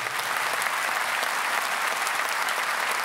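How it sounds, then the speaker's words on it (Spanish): A large arena audience at a live murga carnival show applauds steadily, a thick, even wash of clapping that holds at constant loudness throughout with a faint crowd murmur beneath. "Fuerte aplauso para el Pepe."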